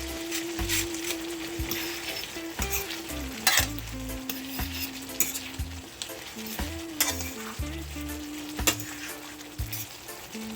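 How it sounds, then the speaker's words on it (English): Ackee and tinned mackerel sizzle in a frying pan while being stirred, with a steady crackle broken by scraping and clinking strokes of a utensil close by. "I'm gonna add my ackee to my tin mackerel now"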